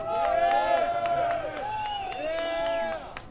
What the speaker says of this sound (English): I want to hear a big, big, loud, the loudest applause for Boston today